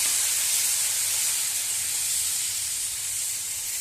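Spice paste for a small-fish curry hisses and sizzles steadily in a hot pan, a continuous bright frying noise heard alone and close with no talk.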